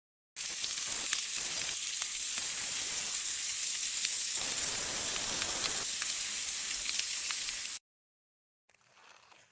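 Fish frying in a pan in a Bangla cartoon makes a loud, continuous sizzle with light crackles. It cuts off abruptly into silence, and a faint sound follows at the end.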